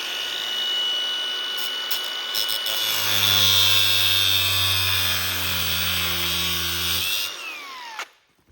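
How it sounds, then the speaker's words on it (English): Loud, steady whine of a power tool cutting through the threaded end of a 7/16 coarse-thread bolt, holding for about seven seconds and shifting pitch slightly before winding down and stopping. "Now I'm going to cut that threaded area off."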